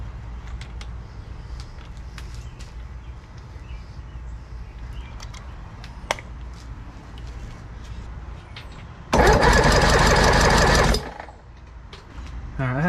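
Force 125 outboard engine cranked over during a compression test, a loud, dense mechanical churning burst lasting about two seconds after a stretch of quiet background noise with faint clicks.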